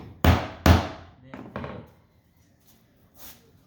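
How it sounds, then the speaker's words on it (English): Hammer blows driving loose nails into a squeaky wooden floor: two sharp, loud close strikes in quick succession, then two softer hits and a faint knock near the end. "I just hit the nails."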